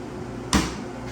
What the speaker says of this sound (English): I'm going to go ahead and close the door,